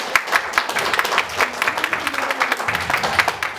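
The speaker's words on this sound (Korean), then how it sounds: "그래서 한번 박수를 보내줍시다" Audience applause follows a call to clap for someone at a Korean gathering. Many hands clap steadily and fairly close for a few seconds, with brief scattered louder claps and no voices over it.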